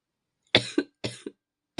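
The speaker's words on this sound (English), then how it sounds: "I didn't manage to pause during that coughing fit" A sick person has a coughing fit of three harsh, close coughs, each one a burst with a quick catch after it. Another cough starts right at the end. The coughs stand alone against silence.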